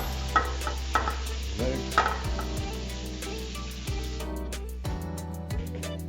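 Potato chips being mixed for fried hake make a series of close knocks and scrapes as they are stirred and tossed, over a steady hum and faint sizzle, with no one speaking.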